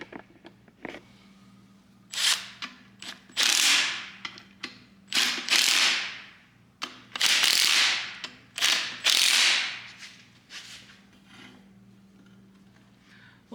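A hand ratchet clicks in quick bursts as it runs bolts in on a Silverado axle fitted to a C10 truck. The close, crisp pawl clatter comes in about eight bursts separated by short pauses, and no one speaks.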